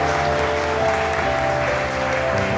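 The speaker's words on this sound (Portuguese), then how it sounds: "Dê uma salva de palmas." Church congregation applauds during a worship service, a steady wash of clapping heard alongside sustained music, moderately loud and continuous.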